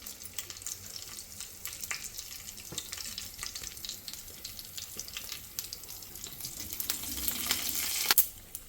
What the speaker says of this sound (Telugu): పొయ్యి మీద బాండలు పెట్టుకుని ఆయిల్ హీట్ ఎక్కాక ఫస్ట్ తాలింపు వేసుకుందామండి